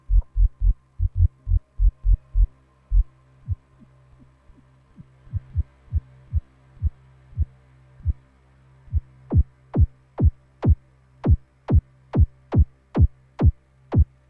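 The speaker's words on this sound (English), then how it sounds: "Now we're already getting a kick sound" A deep kick drum made on an analog synthesizer thumps repeatedly over a low hum, pausing and shifting tempo, then returns in a steady, brighter, punchier pattern.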